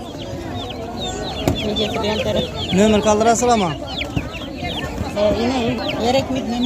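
Two-month-old chicks and other poultry cluck and peep continuously at a busy outdoor bird market in Khorezm, Uzbekistan, a dense overlapping chorus close by, with people talking over it.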